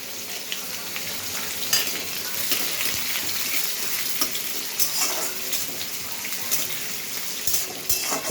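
Dried red chillies, bay leaves and chopped onion frying in hot oil in a home kitchen, a steady close crackling sizzle with occasional sharper spits and stirring scrapes, no talking.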